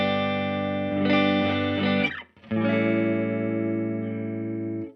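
Friedman Vintage-T electric guitar played through the neck humbucker, a full, warm tone with strummed chords ringing out under effects, a brief break, then a long sustained chord fading over about five seconds, no talking.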